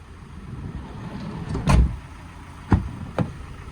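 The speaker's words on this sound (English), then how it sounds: "Side loading door." The side loading door of a 2020 2-litre diesel Ford Transit refrigerated van slides and closes with a heavy thud, followed by two sharper clunks, heard close against a steady outdoor background.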